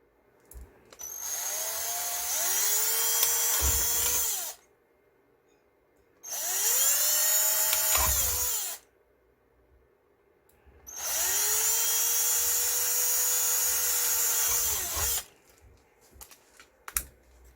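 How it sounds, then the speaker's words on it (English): A power drill with a 2mm bit drills pilot holes into acrylic, whining in three sustained bursts, each spinning up to a steady high-pitched buzz, with quiet pauses and small knocks between them. "I'm going to pilot drill the holes first using a 2mm drill bit."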